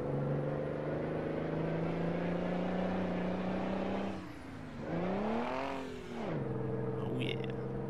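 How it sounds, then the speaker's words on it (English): A Mack truck's engine in American Truck Simulator drones steadily, then dips and climbs twice through gear changes, rising in pitch with each pull before settling back to a low, even hum. "I am starting to really like the sound of this truck."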